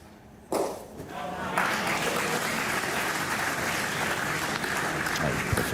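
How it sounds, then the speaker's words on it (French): Spectators applaud at the 2017 Coupe de France mixed-triples pétanque final between Draguignan and Vitrolles; after a quiet opening the crowd breaks into sustained, broad clapping that carries on to the end. "il préfère attendre la fin des applaudissements, Antoine Navarro"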